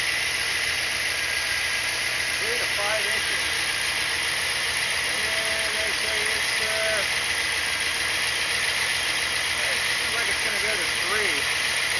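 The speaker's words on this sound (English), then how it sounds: "Now let's start the engine." A 1990 Corvette engine idles steadily with a vacuum gauge hooked up and the crankcase system sealed. The rumble is loud and constant throughout, with faint voices underneath.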